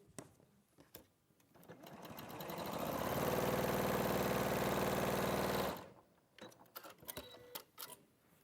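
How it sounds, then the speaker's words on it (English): A sewing machine runs in a quilting and sewing session, starting up and whirring steadily for a few seconds before stopping, with scattered clicks and handling knocks on either side. "Is your sewing machine working now?"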